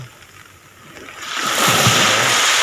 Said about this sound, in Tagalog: Ayan sarap pakinggan yung hampas ng alon